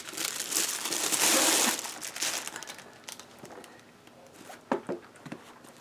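Someone opens a zippered pouch package that arrived in the mail, with loud crinkling and crumpling of packaging up close, then softer rustles and a few sharp handling clicks.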